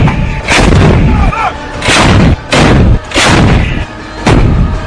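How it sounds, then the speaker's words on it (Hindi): Artillery cannons firing shells in the mountains: five heavy, booming blasts in quick succession, each rolling into a long echo across the terrain, very loud and close. "उसके बाद एक एक करके ये सैनिक तोप में गोले डालते गए और धमाकों से पूरा पहाड़ गूंजता रहा।"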